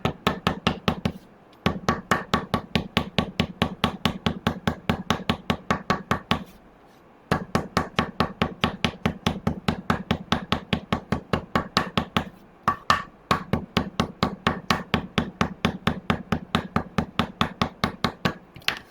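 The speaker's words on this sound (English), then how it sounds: "We're going to hammer all the thread all the way around." Rapid, continuous hammering on metal thread to flatten it, steady rhythmic blows repeated for a long stretch with a few short pauses, close and moderately loud.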